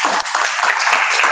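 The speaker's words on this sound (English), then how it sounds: "let's give him a hand of applause" A Toastmasters club audience gives a speaker a round of applause, with a close, even wash of many hands clapping steadily throughout.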